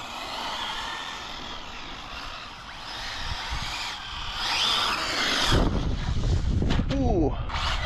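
Arrma Felony 6S RC car driving indoors, a whining motor that builds to a louder, rising surge near the end, with a voice talking over it.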